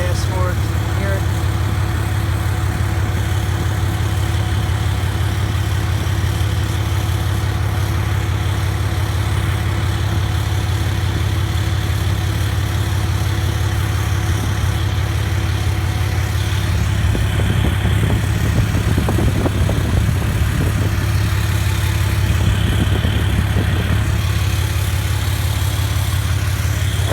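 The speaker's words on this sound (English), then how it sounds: "So that's 4-inch Flow Pro straight pipe with a muffler. So give you a little gas for it so you can hear it." Diesel truck with EGR/DPF delete and 4-inch Flow Pro straight pipe with muffler, a loud, steady low idle rumble close by that briefly swells when the throttle is blipped late on, with talk over it.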